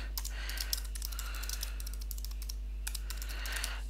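Keys on a computer keyboard are tapped in quick, irregular runs of soft clicks at close range, with a low steady electrical hum underneath and no talking.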